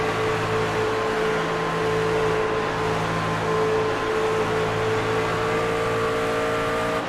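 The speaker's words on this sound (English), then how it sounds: "You hear just how much those drivers are modulating that throttle, trying to hold on to it as the track has very little grip." Race truck engines in a sim racing game, a loud continuous drone with steady tonal whine as drivers work the throttle on a low-grip track, sustained without pause.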